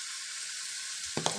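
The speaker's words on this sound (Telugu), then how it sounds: "స్పైసీ ఫ్రై చేస్తాను." Food frying in a pan for a spicy fry, with a constant close sizzle and a couple of stirring clinks near the end.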